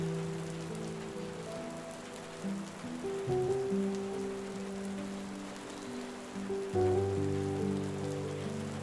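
Steady rain falls outdoors in the German countryside, a dense continuous patter that stays fairly even throughout, with no voices.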